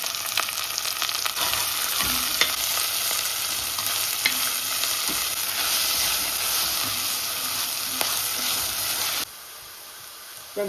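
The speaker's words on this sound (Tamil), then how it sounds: "இப்போ நாங்கள் கட் பண்ணி வச்சுருந்து வெங்காயத்தை சேர்ப்போம் ஒரு ரெட் ஒனியனும் ஒரு ஒயிட் ஒனியனும் கட் பண்ணி வச்சுருந்தா அதோடைய கருவேப்பிலையும் சேர்ப்போம்" Red and white onions with curry leaves fry in a pan, a dense continuous sizzle and hiss with occasional stirring clicks, dropping suddenly to a quieter hum near the end.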